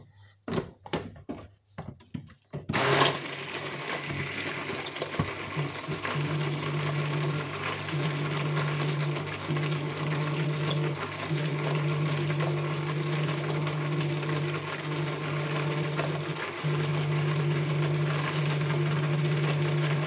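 A hand mixer beats a batch of homemade soap made with bluing (azulete) and liquid fabric softener. A few knocks come first, then a steady, loud, continuous motor whir runs without a break for the rest of the clip.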